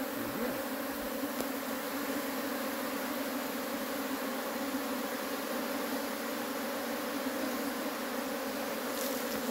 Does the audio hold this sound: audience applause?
no